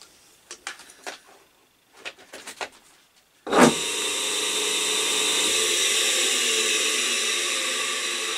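An old Brook Motors Cub half-horsepower electric motor, rescued from a scrapyard, starts up after a few scattered clicks and knocks of handling, then runs with a steady, even whirring hum until the end.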